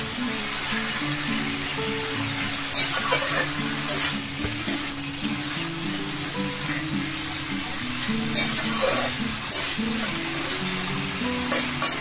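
Red amaranth greens frying in a pan, with soft sizzling under repeated scraping and clinking of a spatula while being stirred, fairly quiet and close.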